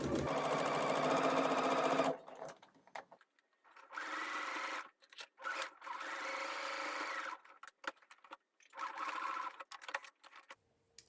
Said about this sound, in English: sew on the other side of the channel so that it secures it to the back band and the centre front